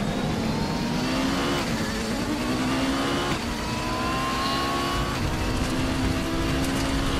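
A race car engine in the video game Raceroom Racing Experience revs and shifts continuously, its pitch rising and dropping through gears with a steady, loud, buzzy drone and no talking.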